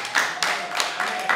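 A church dance group and onlookers in Vikonje, Dodoma, Tanzania clap together in loose rhythmic bursts, several claps spread across a second and a half, moderately loud in a live setting.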